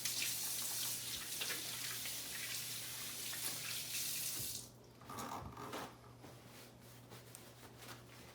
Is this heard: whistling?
no